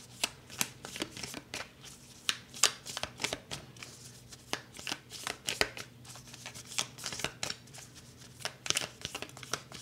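A deck of oracle cards shuffled by hand at close range: repeated soft riffling and slapping bursts in an irregular rhythm, moderately quiet, with no voice over them.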